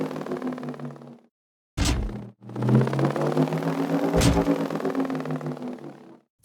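Looping engine hum of a video game hover tank as it turns, with pitch automation and tremolo, a smooth continuous drone broken by two brief gaps and a couple of short sharp mechanical clicks.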